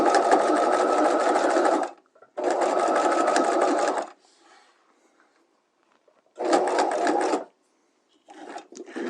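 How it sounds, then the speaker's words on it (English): A sewing machine stitches a patch pocket in loud, steady buzzing runs, stopping twice when the needle is set down and the presser foot lifted, then starting up again. "putting my needle down, putting my foot up, and continue stitching"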